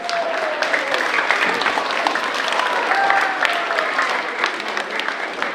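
A concert audience at a spring school concert clapping steadily and loudly, a dense wash of many hands with faint voices and a whistle or two mixed in.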